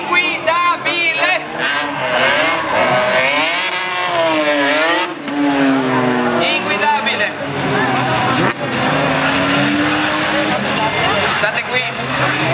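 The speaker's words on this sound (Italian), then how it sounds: "Silvia motorizzata Chevrolet, 800 cavalli, motore sovralimentato, una vettura inguidabile." A supercharged, 800 hp Nissan Silvia with a Chevrolet engine drifts at the Treviso motor fair, its engine note repeatedly rising and falling. Loud commentary runs over it.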